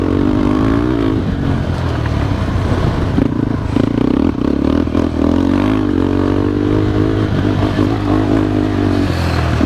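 A 2023 KTM 390 Adventure motorcycle ridden hard off-road, its engine revving loudly and continuously with shifting pitch, mixed with rattling and scraping from rough terrain.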